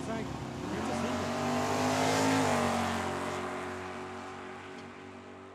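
A Mustang makes a solo drag racing pass at Tucson Dragway, its engine note rising steadily to a loud, sustained roar and then easing off as the car pulls away.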